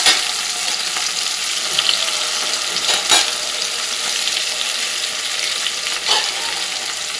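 Fish pieces and onion stalks fry in a hot pan with whole chillies and garlic, a continuous loud sizzle and crackle broken by a few sharper bursts as food is moved.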